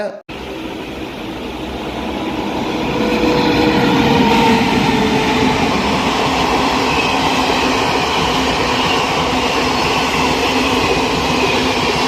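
A new Amrit Bharat electric locomotive hauling an express train rumbles past close by, its loud, steady roar building and holding with rolling wheel noise and faint metallic squeal.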